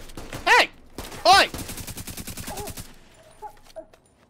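Rapid bursts of automatic gunfire in Tom Clancy's The Division 2, a dense rattling run of shots that stops abruptly, with loud high-pitched game-character shouts over it and sparse faint sounds afterward.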